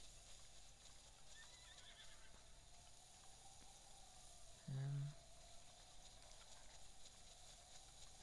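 A horse in the video game Breath of the Wild, a faint whinny and soft hoof sounds under low ambient game background, with one short louder tone midway.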